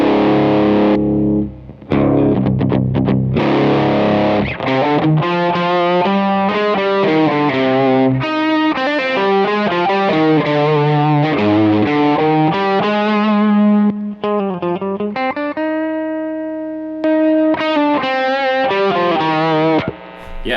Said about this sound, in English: solid distortion pedal on the cheaper side too.